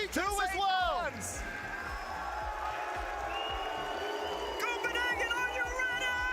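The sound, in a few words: crowd cheering at RLCS watch party in Copenhagen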